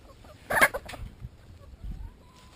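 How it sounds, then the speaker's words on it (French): A rooster and hens in a permaculture garden give a sharp squawk and a few soft clucks nearby, brief bursts separated by quiet. "Voici le coq et les poules."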